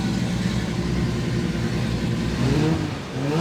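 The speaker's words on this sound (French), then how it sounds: "Et on entend déjà le bruit du moteur" A race car engine runs loud and steady at close range with a continuous mid-low drone, revving up slightly near the end.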